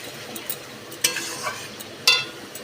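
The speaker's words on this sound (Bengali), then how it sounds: "এবার আমি দিয়ে দিচ্ছি সামান্য করে টমেটো কেচাপ দিয়ে আমি আবারও খুব ভালো করে মশলাটা কষিয়ে নেব।" Masala with tomato ketchup being sautéed in a pan, a low background sizzle broken by a few sharp spatula scrapes and clinks against the metal, close up with no talking.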